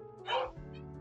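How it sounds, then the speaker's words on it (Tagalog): A dog gives a single short bark that rises into a whimpering yelp, close and fairly loud, with a steady hum underneath. "Sige, magtahulan pa kayo dyan."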